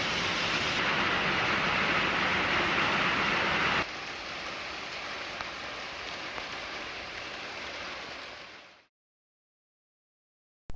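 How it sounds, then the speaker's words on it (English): Steady rain hisses outdoors, heavy at first and then lighter, before the recording cuts to silence near the end. "Getting some evening rain, y'all."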